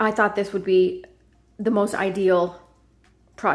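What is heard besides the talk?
No everyday noises stand out.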